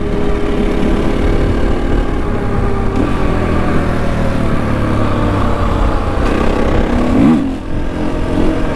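A new motorcycle engine runs close and loud, roaring continuously with a few quick rises in revs, and no voices over it.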